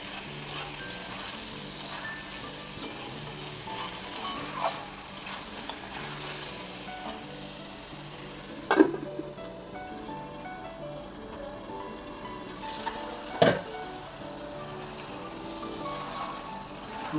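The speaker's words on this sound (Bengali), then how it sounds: "মশলার সাথে আলু চিকেন একসাথে কষানো হচ্ছে।" Chicken and potatoes stir-fried with spices in a pan give a continuous soft sizzle, and two sharper scrapes or clacks of a stirring utensil stand out partway through.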